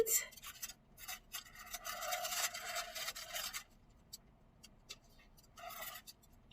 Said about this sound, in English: scrape off the additional shaving cream